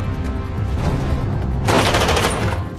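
Loud gunfire erupts in a rapid, dense burst, shots rattling over a rumbling background with no voices.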